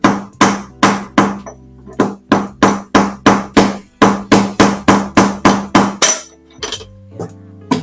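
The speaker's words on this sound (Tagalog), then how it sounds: "Gagamitan po natin ng pinaka push rod at martilyo para magpalabas natin yung bearing sa kabila." Loud metallic hammer blows on a push rod driving out a bearing from an LG commercial washing machine, in a fast, steady rhythm, about two or three per second and ringing sharply, then slowing to a few scattered hits.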